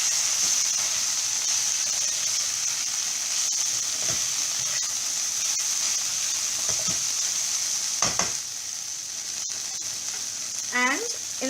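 Okra (bhendi) with coriander powder and other spices sizzling steadily in a pan while being stirred, a constant close frying hiss broken by occasional scrapes and clinks of the spoon.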